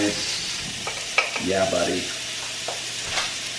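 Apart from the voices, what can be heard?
ground beef with taco seasoning browning in a pan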